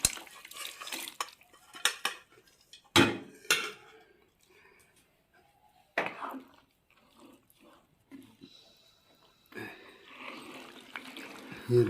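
Beef bones with meat still on them are dropped into a pot of Pakistani haddi guddi salan, giving a few sharp clunks and scrapes against the pot amid kitchen clatter and stirring, with quieter gaps between.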